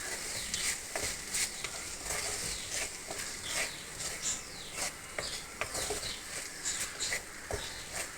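Prawns frying in a pan for a Malabar-style prawn roast, with a continuous low sizzle and repeated light scraping and tapping from stirring, fairly faint and close.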